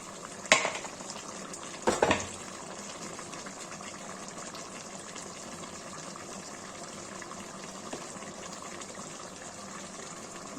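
Kashmiri mutton masala simmering in a pot, giving a steady low bubbling hiss throughout, with a couple of brief clanks near the start, close and quiet.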